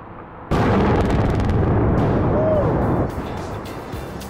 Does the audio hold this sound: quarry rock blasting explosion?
yes